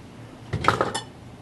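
A metal muffin tin is slid into the oven with a brief clatter and clink of metal, quiet before and after.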